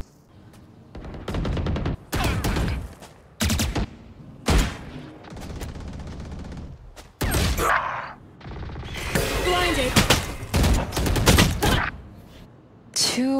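Odin machine gun fire in the Valorant video game, loud sustained bursts of rapid automatic shots broken by short pauses, with game effects and crashes between the volleys.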